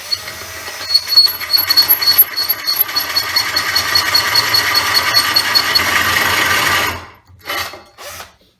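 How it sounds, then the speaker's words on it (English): A power drill fitted with a carbide holesaw grinds into bathroom tile, a harsh, gritty rasp with uneven pulses that runs steadily for about seven seconds, then stops, followed by a couple of short bursts. "if I drill at a bit of an angle, I can break the seal or break the glaze on one side and then rotate the drill around"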